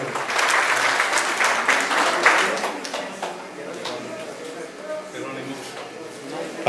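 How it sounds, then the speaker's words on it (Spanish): An audience applauds a citizen receiving a registration certificate at a ceremony for older adults, the clapping moderately loud and steady, then easing toward the end, with a voice speaking over part of it. "Un fuerte aplauso."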